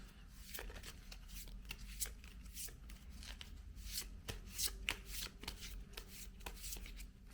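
Tarot cards being shuffled by hand at close range, a dense run of crisp riffles and slaps that continues steadily with little pause.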